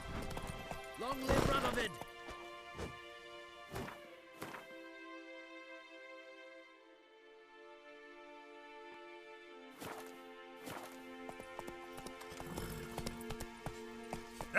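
Roach, the horse in The Witcher 3, trots with steady hoof clip-clops at the start and again toward the end, under a sustained musical drone. A voice speaks briefly over the hooves.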